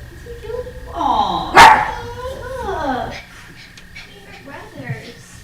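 An old blind and deaf dog barks and whimpers in short bursts, with one sharp, loud yelp near the middle, while a person talks over it close by.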